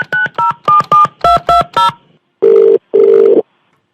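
Phone keypad tones beep in a quick run of about eight short dialing beeps, followed by two longer ringback tones, crisp and close with silence between.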